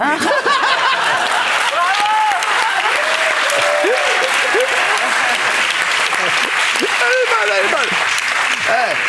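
A comedy show audience applauds loudly and continuously, with scattered chuckles and laughter rising through the clapping.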